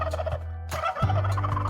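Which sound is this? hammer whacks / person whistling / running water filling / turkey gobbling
turkey gobbling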